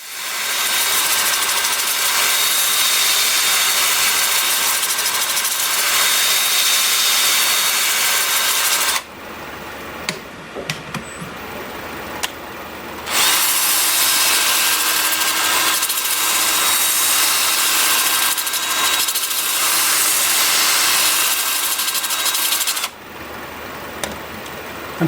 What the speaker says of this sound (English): I'm starting the sanding at 80 grit and working up through 400